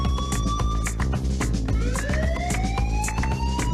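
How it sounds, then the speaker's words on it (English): A wailing police siren sound effect, loud and continuous, its rising and falling tones sweeping up and down over a busy background with beat-like thumps throughout. "Find me a siren. I want a siren."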